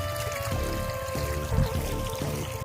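Irrigation water pours and gurgles steadily into a wheat field, a continuous close flow under a constant tonal machine hum.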